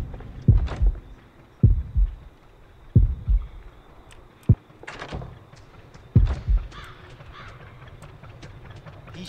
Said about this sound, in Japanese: 一瞬心音鳴ったのが不気味ですね